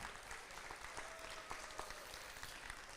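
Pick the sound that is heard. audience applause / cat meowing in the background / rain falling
audience applause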